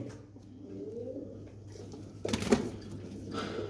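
Balkafa pigeons coo softly in a low, steady murmur, with a louder burst of fluttering or scuffling near the end.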